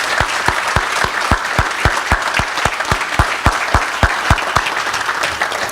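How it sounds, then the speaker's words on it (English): At a SALDEF national gala, an audience applauds in steady rhythmic unison, each clap sharp and evenly spaced, loud and continuous over a diffuse crowd background. "So let's give her a round of applause."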